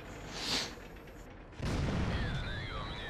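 A tank cannon fires in the World of Tanks video game, one abrupt heavy boom that breaks through quiet background noise and gives way to a sustained low rumble.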